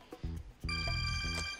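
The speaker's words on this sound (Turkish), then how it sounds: "O telefon kapı değil." Telephone ringing in a domestic scene, a loud electronic ring in repeated bursts with bright steady tones, filling the short moment with no talk over it.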